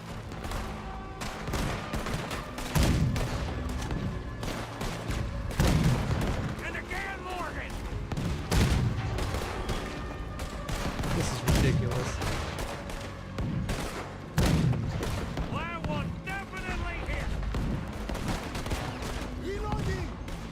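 Cannon fire at a boat in the Red Dead Redemption 2 video game rings out as repeated booming shots amid gunfire and battle noise, several blasts spread through the stretch with speech mixed in.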